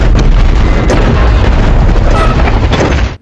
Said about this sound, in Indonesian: setelah ledakan barusan